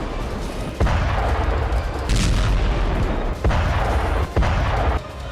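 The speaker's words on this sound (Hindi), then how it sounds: "शॉकवेव बॉम्ब के साथ लाल सेना ने यूक्रेनी आर्मी के खिलाफ थर्मोबैरिक रॉकेट स्ट्राइक किया" Thermobaric rocket strikes against Ukrainian army positions, four or five sharp booming blasts at irregular intervals, each followed by a rumbling decay over a constant noisy background.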